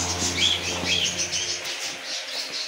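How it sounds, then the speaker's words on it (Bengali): A budgerigar in an aviary lets out quick, high chirps and short warbles over a steady wash of background noise and faint distant activity. "এটা বাজরিগর"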